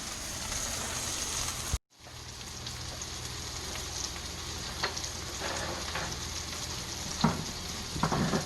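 Bacon frying in a hot pan at about 380 to 400 degrees, giving a steady dense sizzle with scattered pops and crackles, close and continuous after a brief cut near the start.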